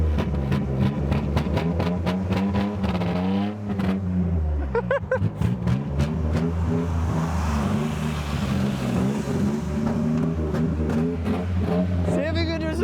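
A Nissan 300ZX engine runs steadily and is put into gear, its low rumble loud and constant throughout with people talking over it.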